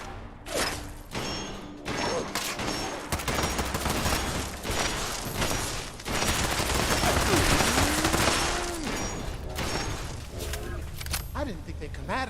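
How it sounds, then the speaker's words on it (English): Heavy, noisy gunfire in Fallout 76 rattles in dense rapid bursts through most of the stretch, loud and close, with an eerie sweeping tone mid-way and voices speaking under the shooting. "That's a noisy ass weapon."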